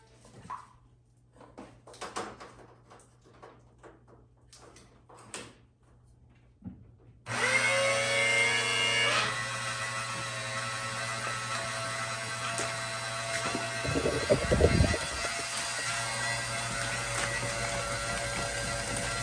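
A basement sump pump switching on after a few scattered clunks, then droning loudly and steadily with a constant electric whine and a brief gurgling surge partway through.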